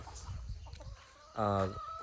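A single loud, drawn-out chicken call rings out briefly over faint background noise, close by, after a stretch of quiet rustling.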